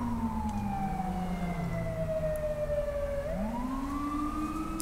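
An ambulance siren in the video game GTA 5 wails in long, sliding tones that fall and then rise again, continuous and fairly prominent over a low engine rumble at night.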